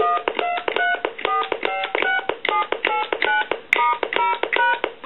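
Touch-tone dialing tones ring out from a Spirit of St. Louis telephone, a long run of crisp, evenly spaced dual-tone beeps, loud and close, with no talking.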